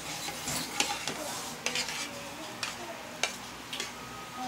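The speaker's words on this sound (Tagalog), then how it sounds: "Mix with the milk and the cream." A utensil stirs milk and cream together in a bowl for a mango graham cake, soft continuous swishing with a few light clicks against the side, close and quiet.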